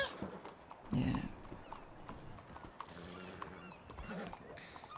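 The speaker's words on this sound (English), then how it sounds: "Livy, your horse is being funny. It's upset" Horse hooves in a Red Dead video game: scattered clip-clop hoofbeats and snorting, fairly faint and uneven, with a louder thump near the start and someone talking quietly underneath.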